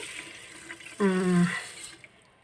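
Water is poured into washed rice, two cups to one cup of rice, before the cooker is closed. It comes as a short, fairly loud splashing pour of about half a second, with faint talking in the background.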